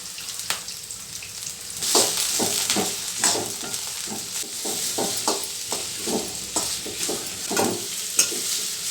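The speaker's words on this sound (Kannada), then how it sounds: "ಈರುಳ್ಳಿ ಮತ್ತು ಬೆಳ್ಳುಳ್ಳಿ ಈಗ ಇದಕ್ಕೆ ಹೀರೆಕಾಯಿ ಚಿಪ್ಪೆ ಹಾಕ್ತಾಯಿದ್ದೀನಿ" Ridge gourd peels frying with onion and garlic in a pan of oil over high flame, a steady bright sizzle with repeated stirring scrapes and clatters throughout, close and fairly loud, no voices.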